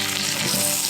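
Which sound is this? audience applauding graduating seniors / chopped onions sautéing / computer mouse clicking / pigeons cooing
chopped onions sautéing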